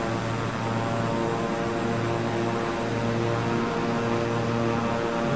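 Steady turboprop drone of a Beechcraft King Air 350i cruising in Microsoft Flight Simulator, a constant loud hum with a strong low tonal buzz and broadband airflow hiss throughout, with no talk.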